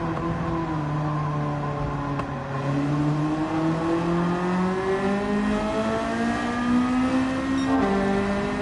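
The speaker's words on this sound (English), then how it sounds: "The Integra engine really sounds incredible, and it's just such a good power delivery with the engine swap." A car with a swapped Honda Integra engine races in Gran Turismo 7, its loud engine tone climbing steadily through the gears, with shift drops and renewed revving and no talk over it.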